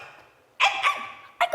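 A dog barks in a Korean traditional-music stage play, three short, sharp yaps in quick succession, clear and fairly close against a quiet backdrop.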